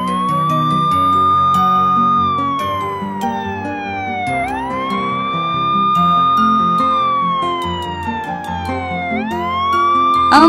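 A wailing ambulance siren, likely a toy's, rises and falls in long sweeping cycles, loud and close and heard alone over a steady background.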